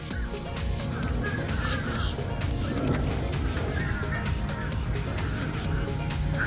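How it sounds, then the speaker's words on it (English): Birds call loudly and repeatedly in a lakefront park in Kissimmee, harsh crow-like caws overlapping with chirps and other calls above a busy outdoor background, close and persistent throughout. "Boy, the birds in this park."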